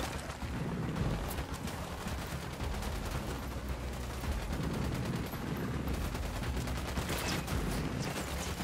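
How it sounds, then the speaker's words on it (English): Gunfire from the video game Ghost Recon Wildlands rattles in a continuous fusillade of rapid automatic bursts, dense and sustained throughout, with no speech over it. "I'm opening fire on these shitheads."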